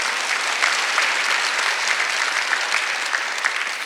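A congregation at a Sunday church service claps hard and fast, a loud, continuous burst of many hands with no talking, holding steady for a few seconds.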